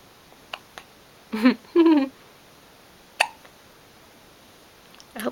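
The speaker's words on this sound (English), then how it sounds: "we have the hiccups today" A baby hiccups several times, short sharp isolated hics spread across a few seconds, along with a couple of brief voiced baby sounds in a quiet room.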